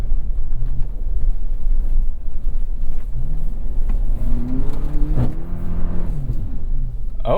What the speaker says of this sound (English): we got some engine cut right there